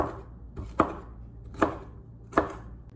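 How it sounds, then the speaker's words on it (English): A knife chops red cabbage into slivers on a cutting board, with three sharp, evenly spaced thuds close up and quiet pauses between strokes. "so roughly chop it into slivers"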